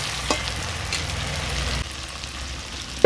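Mustard and poppy seed paste with green chili sizzles in a pan while being stirred for a Bengali fish curry, a steady close frying hiss with soft scraping and a brief clatter at the end.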